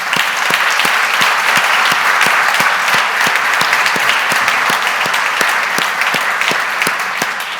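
Loud, sustained audience applause at a farewell address at a business summit, a dense roar of many hands with some sharp individual claps standing out in a steady, near-rhythmic pattern, no talk over it.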